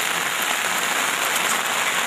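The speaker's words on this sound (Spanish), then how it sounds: "Y así está lloviendo acá en el club" Rain pouring down at a club venue, heard as a dense, continuous hiss that stays even and loud throughout, with no voices or other distinct sounds.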